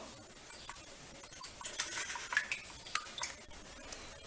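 Egg curry ingredients with pepper powder and turmeric are stirred in a bowl, producing soft irregular clinks and scrapes of a spoon against the bowl, close and fairly quiet.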